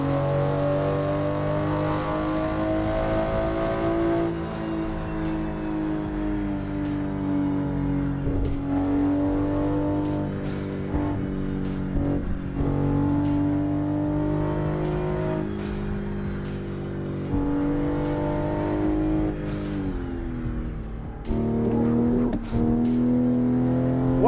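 Steady car engine drone with revving and shifting pitch, loud and continuous throughout, from a driving simulator game with exterior camera view, around a lap such as the Nordschleife.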